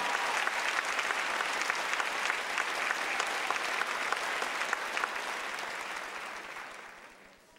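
A commencement audience applauds retiring staff at a 2006 high school graduation, a dense steady wash of clapping that carries on for several seconds before tapering off toward the end.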